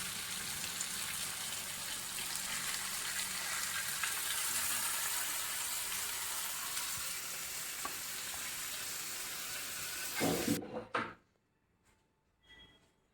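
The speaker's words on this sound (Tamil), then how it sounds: "மொத்தத்துக்கு எட்டு நிமிஷத்தில் நல்லா ரோஸ்ட்டாக கிறிஸ்பியாக வெந்துடும் மீன்" Fish pieces fry in hot oil for a crispy fish fry, a steady loud sizzle with a few stirring clinks, then a clatter near the end and quiet afterwards.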